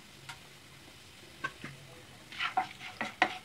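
Whole cumin, bay leaves, cardamom, cinnamon and cloves are stirred in a hot pan, making a faint low sizzle broken by a handful of sharp spoon scrapes and clinks near the end.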